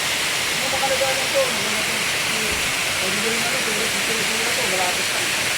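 Water pours at Tarimes Falls in Rodriguez, Rizal, making a loud, constant rushing roar that fills the whole scene, with faint voices talking beneath it.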